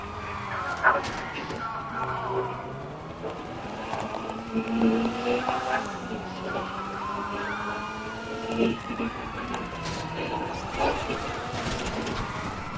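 A car in the GTA video game accelerates, its engine revving in repeated rising and falling sweeps, fairly prominent against other game sounds.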